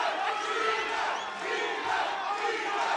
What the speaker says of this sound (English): the Vegas faithful cheering on their man, Ilay Barzilay